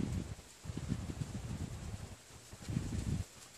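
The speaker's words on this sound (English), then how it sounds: "the wind starts to blow harder" Outdoor wind gusting against the microphone in low rumbling bursts, strong for a few seconds, easing off briefly and then blowing hard again, with no speech.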